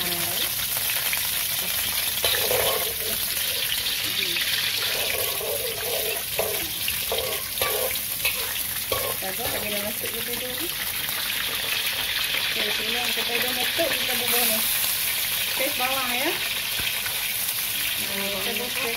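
Lemongrass sautéing in hot oil in a wok, a steady sizzle running throughout with a voice talking over it now and then.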